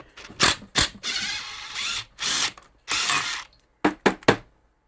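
Ratcheting socket wrench working loose a part on a Homelite string trimmer, several loud close bursts of rapid clicking separated by short pauses, ending with three quick strokes.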